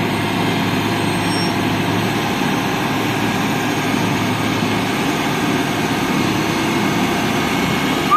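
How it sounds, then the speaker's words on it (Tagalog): A dump truck's engine runs steadily at a constant low rumble, loud and close throughout, with no talk over it. "Lorry ang tawag dito sa ganitong sasakyan, dump truck."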